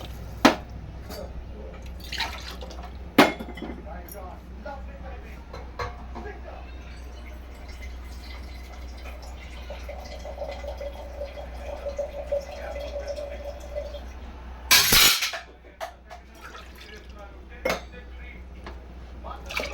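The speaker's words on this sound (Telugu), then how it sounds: "ఒకటిన్నర గ్లాస్ నీళ్ళు వేసుకున్నాను చూడండి వాటర్ వేస్తున్నాను" Water is poured from a glass onto rice in a pressure cooker pot for egg biryani in a home kitchen, a soft splashing stream joined by dripping and metallic clinks of the pot.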